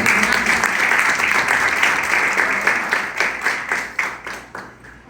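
A church congregation applauds loudly and steadily in a full room, the dense clapping thinning into scattered, slower claps as it fades toward the end.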